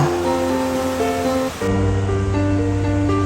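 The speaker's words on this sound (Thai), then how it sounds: "น้ำที่ตกมาจากภูเขา ก็จะไหลสู่แม่น้ำลำธารซึ่งน้ำมีความใสมากๆเลยล่ะค่ะ" Water rushes in a steady broadband wash, constant and close, like a fast mountain stream flowing over rocks in Austria, with no voices.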